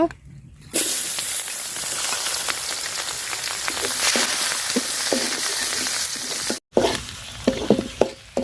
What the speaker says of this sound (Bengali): তো পেঁয়াজ মরিচ আমি ভাজা নিচ্ছি।